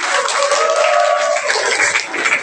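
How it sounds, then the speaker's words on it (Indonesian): Students clap loudly at a school entrepreneurship seminar, a dense, continuous burst of applause close by with a few voices mixed in. "Boleh kita kasih tepuk tangan dan semangat?"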